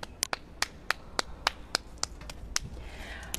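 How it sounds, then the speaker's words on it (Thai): Audience clapping at a Thai teaching session, heard as about a dozen sharp, separate claps spaced roughly evenly, fairly close and not very loud, more like a few people than a full crowd. "ปรบมือเลย"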